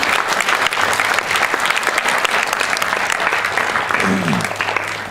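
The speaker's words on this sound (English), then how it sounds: "Can we get another round of applause for them?" A hall full of guests at a Ladies Day program for a 90th birthday celebration claps loudly and steadily throughout, a close, dense wash of many hands.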